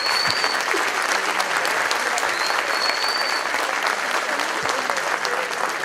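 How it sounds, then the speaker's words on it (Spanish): Dense, sustained applause from an audience for a music group at a presentation, steady and fairly loud throughout with a few faint whistles rising above the clapping. "Así que le damos un aplauso al grupo."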